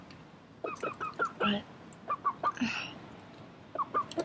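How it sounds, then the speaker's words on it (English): Several chickens cluck in short, scattered bursts at close range as they gather around a person, with a voice speaking briefly between the calls. "all the chickens are coming towards me"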